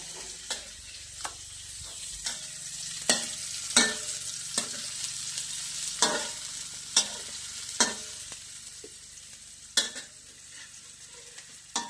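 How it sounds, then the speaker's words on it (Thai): Pork for Thai pad kaprao stir-frying in a hot pan: a hissing sizzle is broken by rhythmic, sharp spatula knocks and scrapes roughly every second, with no talk. "อ่ะคั่วให้หอม"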